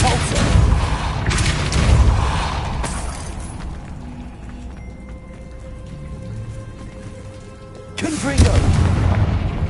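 Two heavy booming blasts of the Repulso spell in Hogwarts Legacy, one at the start and another near the end, each loud and rumbling, with a quieter lull between them.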